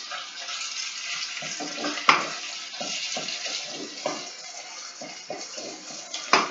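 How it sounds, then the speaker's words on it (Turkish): Tomato paste sizzles in a hot pan while Turkish sulu köfte is cooked: a continuous frying hiss broken by small crackles and a few louder pops. "salçamız kavrula dursun"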